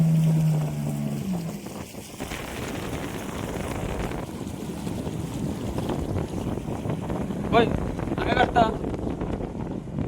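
A tourist boat moves across estuary water near a mangrove forest, a continuous rushing drone of engine, water and wind buffeting the microphone, with faint voices mixed in.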